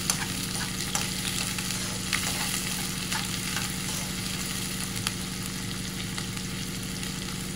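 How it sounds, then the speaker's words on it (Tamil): Onions sautéing in sesame oil for keema mutton gravy crackle in a continuous, close frying sizzle, with occasional soft stirring clicks and no voices. "வெங்காயம் நல்லா வதங்கணும்"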